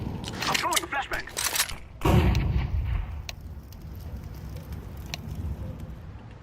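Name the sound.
flashbang grenade thrown in Counter-Strike 2 video game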